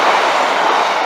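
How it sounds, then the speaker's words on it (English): Class 156 diesel unit 156408 running from Leicester to Lincoln, heard as a loud, steady close-up rush of rolling wheels and engine noise, continuous and without any voices. "156-408 to apparently Lincoln."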